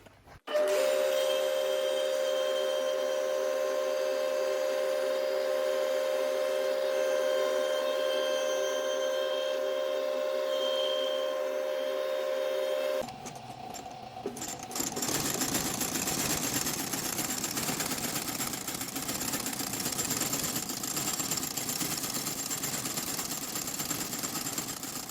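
A boot-stitching machine sews a second row of stitches along the edge of a new welt on a Hyer boot sole, a loud, steady mechanical hum and rapid chatter running continuously, shifting to a harsher, busier rattle partway through.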